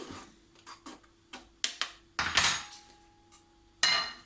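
Flour, baking powder and cheese are stirred quickly in a bowl for chicken pancakes, with irregular utensil clinks, taps and short scrapes close up.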